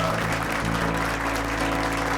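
A studio audience applauds in dense, steady clapping that fills the whole stretch, loud and continuous with no talking on top.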